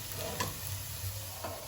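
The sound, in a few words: cauliflower dhoka cakes frying in oil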